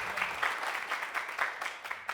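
An audience at a televised event applauds motorcyclists with steady, fairly faint clapping throughout.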